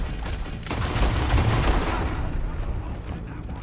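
Gunfire in Red Dead Redemption 2 during the Saint Denis Job mission: a dense burst of rapid shots swells after a moment and then fades into a noisy tail, at moderate loudness.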